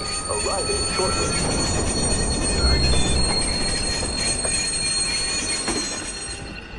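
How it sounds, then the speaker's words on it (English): An eastbound train pulls into a station in the Watch Dogs video game, loud and continuous, with metallic wheel squeal and rumbling rail noise filling the clip. "Eastbound train arriving shortly"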